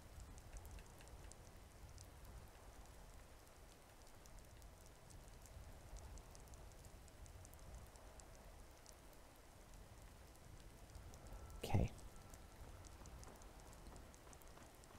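Steady rainfall patters in Skyrim, a soft continuous hiss of drops that holds throughout, broken once by a brief louder thump near the end, with no one talking.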